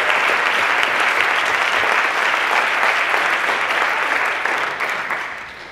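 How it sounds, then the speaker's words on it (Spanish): A full audience applauds at a film festival awards night, sustained and thick with clapping, then gradually tapering and fading toward the end. "Un aplauso para Dani Zafra"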